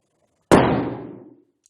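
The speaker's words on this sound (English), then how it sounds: "We got an explosion that time because we had a fuel, we had an oxidizer, and I provided an ignition source." A hydrogen-filled balloon ignited by a flame explodes in a single sharp, loud bang whose roar decays over almost a second, followed by silence.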